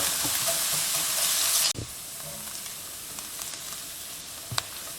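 Onion cooking in a pan with salt, moved around as it softens. A bright, dense sizzle comes first, then drops off sharply to a quieter hiss with a few faint clinks and stirring sounds. Nobody speaks.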